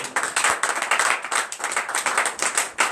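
A church congregation at a morning prayer service breaks into lively applause, loud, close clapping in uneven bursts with no voices over it.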